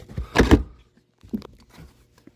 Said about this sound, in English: But they got this neat little access door here.